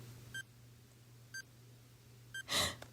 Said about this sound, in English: a sharp, rapid beeping cut through the air.